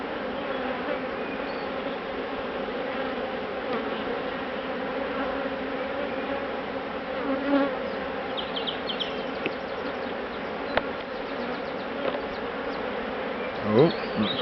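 Agitated honey bees buzz continuously and densely around an opened hive as new plastic foundation comb is handled, a steady near swarm drone with occasional louder passes close by.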